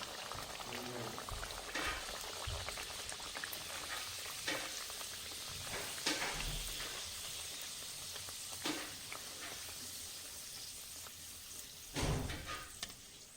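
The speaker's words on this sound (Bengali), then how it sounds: "আমি কচুরিটা ভাজতে চলে এসেছি" Kachori frying in hot oil, a steady bubbling sizzle running throughout with occasional louder spatters and clinks of a utensil, heard close with no talk.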